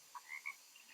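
Several short frog croaks chirp in quick succession, faint and close, a sound effect heard alone without any talking.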